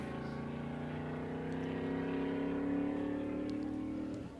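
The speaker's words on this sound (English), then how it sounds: "Car headed your way, sorry." A vehicle engine hums close by, its steady drone swelling slightly as it passes and then fading away.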